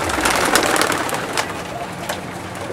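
Sialkoti pigeons cooing in a rooftop loft, soft murmuring coos layered close together over a hissy background, loudest early and easing off slightly, with no voices.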